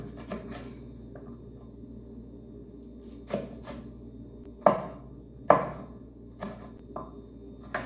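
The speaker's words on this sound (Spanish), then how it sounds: "Voy a partir un chile serrano." A knife chops a serrano chile on a cutting board, giving a handful of sharp, close taps spaced irregularly over a faint background hum.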